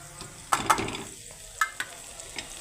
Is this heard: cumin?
yes